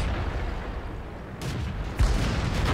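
Tank cannons fire in a World of Tanks-style game around a Soviet KV-220 heavy tank: two distant booming shots over low rumbling battle noise, the second sharper and louder.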